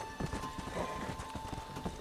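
Horse hooves clip-clop in the game GTA 5, a faint, uneven series of soft thuds under a steady background hum and game ambience.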